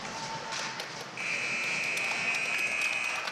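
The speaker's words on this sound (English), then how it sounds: "The buzzer sounds at the end of 2." A hockey rink buzzer at a Darien versus New Canaan boys high school game sounds the end of the second period, a sustained loud tone over arena crowd noise after a brief lead-in.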